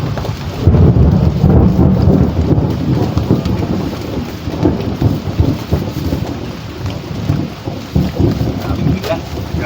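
Heavy thunderstorm with loud rolling thunder and steady downpour during a fishing outing, rumbling continuously near and loud, with wind buffeting the microphone.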